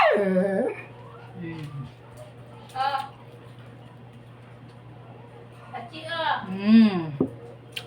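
A dog whines and yips in high, wavering cries at the start and again near the end, close by, over a low steady hum.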